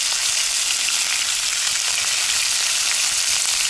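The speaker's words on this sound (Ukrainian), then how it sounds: "Хай смажиться." Steady, loud sizzling of meat frying in a hot pan outdoors, a continuous hiss with faint crackles throughout and no voices.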